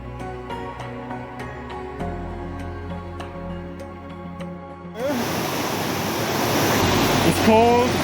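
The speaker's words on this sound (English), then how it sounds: "It's a creek. It's a really wide river" A wide creek flows in a loud, steady rush that starts suddenly partway through, following a stretch of tonal music with soft repeated clicks; no talking is heard.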